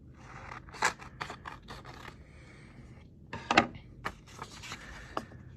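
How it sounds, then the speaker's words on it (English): Scissors snip through excess paper wrapped around a toilet paper roll in a series of crisp, irregular cuts and light scraping, close up with no talk. "If there's any excess, you can cut it off."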